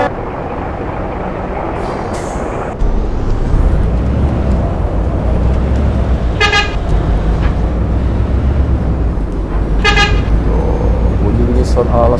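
A bus horn in Euro Truck Simulator 2 with an Indonesian bus mod, driving a Minang map toward Pariaman, sounds two loud musical multi-tone blasts over steady engine and road noise, with a voice talking.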